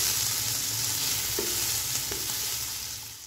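Onions frying in a pot, being browned for layered beef biryani: a steady, close sizzle with a couple of soft stirring scrapes, fading slightly at the end, and no talk.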